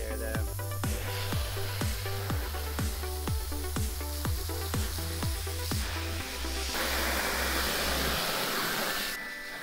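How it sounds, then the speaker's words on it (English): A toy RC monster truck being sprayed to wash off mud, a continuous loud hiss of water spray over a repeating rhythmic low thudding pulse that stops near the end, leaving the hiss alone. "Spray the mud."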